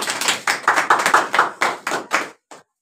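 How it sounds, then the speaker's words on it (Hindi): A class claps together in a run of loud, quick, rhythmic bursts that trail off into a few final claps, close by with no talk. "ताली बजाओ ससुरा सर।"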